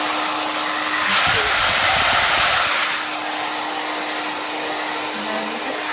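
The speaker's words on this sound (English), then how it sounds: "And then you just dry your hair like that." A JINRI 104A11 1800W infrared ionic blow dryer runs steadily throughout, a loud continuous whoosh of airflow with a steady motor whine, swelling briefly louder in the middle before settling back.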